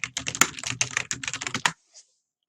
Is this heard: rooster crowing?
no